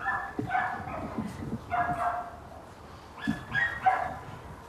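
A group of dogs at a puppy farm barking and yipping at a distance behind a fence, overlapping irregularly, with some higher whiny yelps mixed in.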